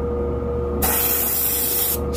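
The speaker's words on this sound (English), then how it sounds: "Spray is really nice." A Sparmax Max 3 airbrush fires a single burst of spray, a bright, close airy hiss lasting about a second over a faint background hum.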